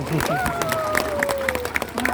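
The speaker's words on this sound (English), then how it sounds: "Give him a cheer" Crowd at a sea lion show in a safari park applauding and cheering after a trick, scattered claps and whoops over background noise, with a sustained whistle-like tone and a voice nearby.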